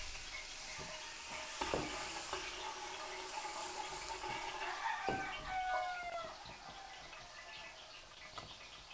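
Garlic frying in margarine in a pan for a Filipino fiesta dish, with a soft steady sizzle broken by scraping stirs and a few sharper clinks, close by with no talk.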